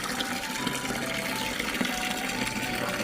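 Small aquarium water pump pushing a fountain jet, a steady close splashing gush of water that holds at an even level throughout with no pauses.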